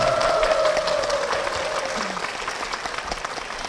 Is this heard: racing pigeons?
no